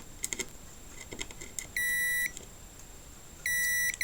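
A multimeter in continuity mode sounds two steady electronic beeps while its probes test a capacitor on an LG UH7650 series TV board. Each beep lasts about half a second, with faint clicks and quiet handling between them.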